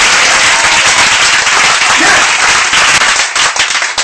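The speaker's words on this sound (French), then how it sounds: "un tonnerre d'acclamation à celui qui est de la gloire" Thunderous applause and cheering from a church congregation during a worship service, a dense, loud, continuous wash of many hands clapping with no pauses.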